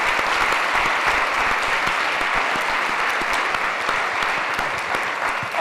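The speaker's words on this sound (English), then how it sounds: "let's give a round of applause to all the sponsors that are in the back." An audience at a mid-term rental summit gives sustained applause for the event sponsors, a dense steady clapping from a crowd that lasts throughout.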